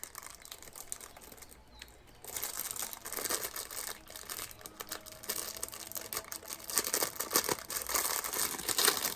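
Small plastic bags holding plush toy eyes crinkle and rustle up close in irregular bursts, quiet at first and then busier and denser, with no talking.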